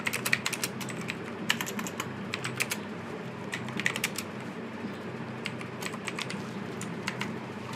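Rapid computer keyboard typing while entering text for a WordPress site, with irregular bursts of clicky keystrokes close to the mic over a steady background hum, no voices.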